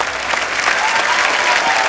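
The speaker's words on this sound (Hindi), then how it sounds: "जोरदार तालियां एक बार" A studio audience at a TV comedy show breaks into loud, sustained applause, dense clapping from a large crowd filling the room without speech.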